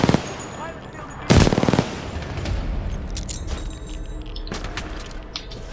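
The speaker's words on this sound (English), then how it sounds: "Hey, don't try shooting at me." Rapid automatic gunfire in the Titanfall 2 campaign: one loud, dense burst near the start, then scattered shots and crackling clatter trailing off, with a few sharper bursts later.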